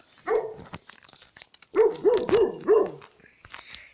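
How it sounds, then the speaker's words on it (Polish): Dogs in Minecraft 1.12 bark in a short run of four rhythmic yaps after an earlier single bark, fairly close and clear, with faint game ambience and no talking. "Tam trochę psy szczekają"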